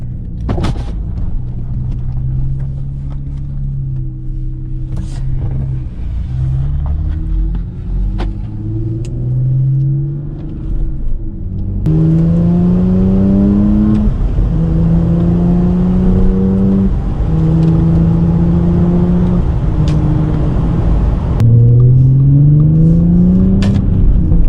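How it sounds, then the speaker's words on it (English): An Audi B8 S4 engine fitted with an AWE intake, revving repeatedly while stationary: loud, close rising and falling engine pitch sweeps, with a stronger harder-edged stretch of rapid revs in the second half. "So that was the S4 intake"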